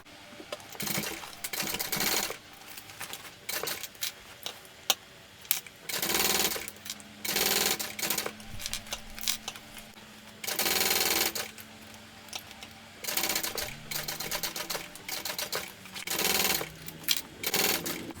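A sewing machine bastes crossbody bag pieces at an eighth-inch seam, running in short bursts of rapid stitching separated by brief pauses, close and fairly quiet.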